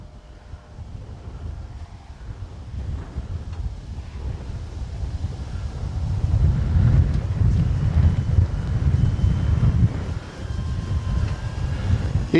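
Wind buffets the microphone in a steady low rumble that swells midway, outdoors during the flight of an Arrows RC Tecnam model plane, with no voices.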